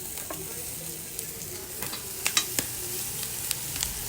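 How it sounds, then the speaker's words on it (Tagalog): Pork belly sizzles on a barbecue grill with a soft, steady crackle and a few sharp pops and scrapes, fairly faint and with no voices over it. "Pork barbecue."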